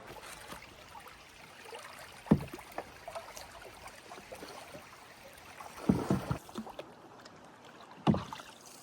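Canoe ferry crossing the Kennebec River in Maine, its paddle strokes splashing in a few distinct bursts over a steady wash of moving water, with no voices.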